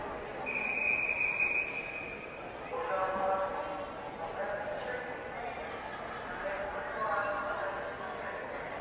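A shrill referee whistle blows near the start of a swimming race at an indoor aquatics meet, a sustained blast with a warbling trill at its end, followed by a crowd murmur and a voice speaking over the pool ambience.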